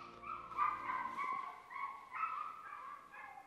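Dogs bark and yip repeatedly in a backyard garden, a steady run of overlapping barks and whiny yelps lasting several seconds at moderate distance, with no voices over them.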